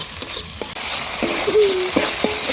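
Chicken masala with tomato and salt sizzles steadily in a pan while a spoon scrapes and stirs through it, with intermittent clinks against the pan over a continuous frying hiss.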